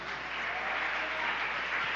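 A church congregation applauding together, a dense, steady wash of clapping hands that fills the space evenly without pause or voices.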